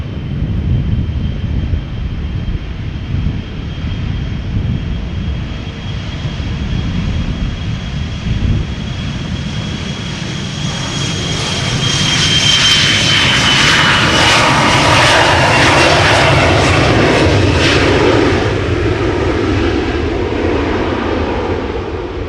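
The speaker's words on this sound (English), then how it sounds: "KLM Embraer 175 is going off to Frankfurt" A KLM Embraer 175 departing Amsterdam Schiphol, its engine roar loud and steady with a thin whine that swells to a broad peak midway through, then eases slightly as the jet moves off.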